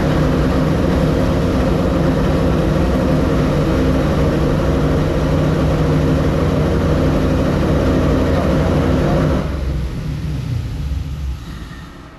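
An LS V8 fitted with individual throttle bodies and drive-by-wire runs with a steady, rumbling low engine roar that fades away in its last seconds.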